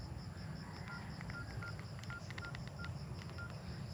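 A mobile phone gives a series of short, bright electronic notification beeps for an incoming text, sounding through steady outdoor background noise with no talking.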